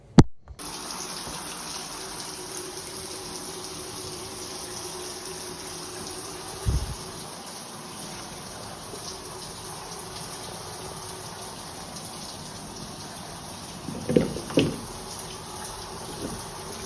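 A shower runs continuously in a homeless shelter, a steady close rush of water with a couple of brief knocks and clatters partway through.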